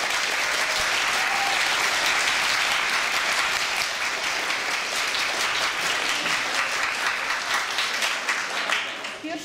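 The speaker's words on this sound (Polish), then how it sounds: "tu brawa za debiut" Sustained audience applause at a high-school debate tournament, welcoming a debate team's debut: dense, steady clapping from a crowd throughout, fading slightly toward the end.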